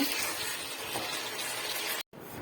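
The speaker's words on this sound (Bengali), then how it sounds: "এখন হচ্ছে পানিটা দিয়ে দিব" Water poured steadily into a pot of braised duck on the stove, a continuous close splashing gush that runs for about two seconds before stopping abruptly.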